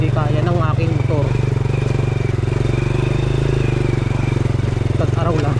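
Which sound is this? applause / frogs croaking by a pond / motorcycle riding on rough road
motorcycle riding on rough road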